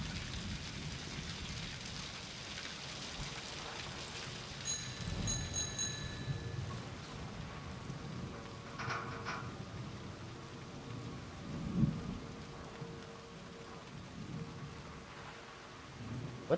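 Rain patters steadily in a video game while thunder rumbles low, with a few brighter bell-like tones and a stronger thunder roll near the end, all fairly quiet and with no voices.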